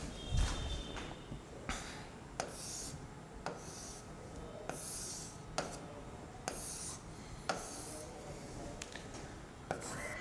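Pen or chalk strokes as a geometry diagram is drawn by hand in a maths class, heard as a series of close scratching, rubbing strokes with short pauses between lines, with no talking.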